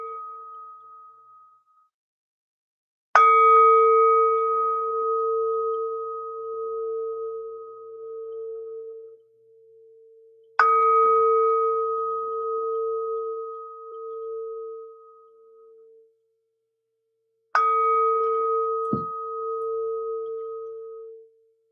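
A meditation bell struck three times at even intervals, each bright ringing tone sustaining and slowly fading away before the next strike, clear and alone in a quiet room.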